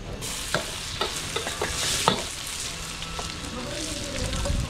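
Garlic and onion crackle and sizzle in a pan, a close frying hiss broken by stirring scrapes and scattered pops.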